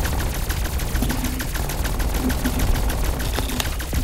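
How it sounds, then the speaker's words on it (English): Rapid automatic gunfire pours into a boss in Cold War Zombies, a loud, continuous stream of fast, evenly spaced shots over a constant game soundscape, with no break in the firing. "Start shooting him."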